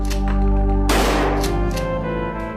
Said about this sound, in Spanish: Lyle y Eric les acribillaron con 13 disparos